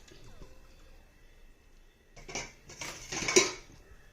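Washed, drained beef pieces dropped into a pressure cooker in a home kitchen, a quiet lull giving way to a burst of clattering metal and wet thuds that peaks briefly near the end.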